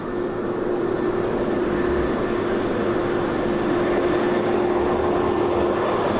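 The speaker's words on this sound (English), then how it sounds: "Sounds like there's some kind of big vehicle coming." A heavy vehicle rumbles steadily nearby, with a deep, continuous engine roar and road noise that grows slightly louder as it approaches.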